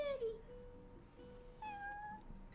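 A cat meows in the video game Final Fantasy XV: two quiet, drawn-out meows separated by a pause, over faint background ambience.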